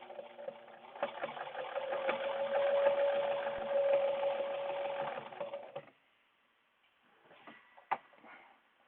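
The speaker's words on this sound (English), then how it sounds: "add the nose piece in, and then sew it up again" A sewing machine stitches a reusable fabric mask with a HEPA filter insert, running in a steady close whir for about five seconds before stopping, followed by a few faint clicks and handling noises.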